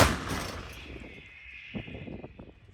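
An artillery cannon fires at the front line with one loud, sharp blast, then a long rumbling echo that fades away.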